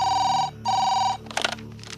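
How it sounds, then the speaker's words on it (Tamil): An old-style telephone bell rings in two loud, steady bursts with a short pause between them, followed by a clattering rattle as the receiver is handled. "அண்ணே ஃபோன் அடிக்குதுண்ணே"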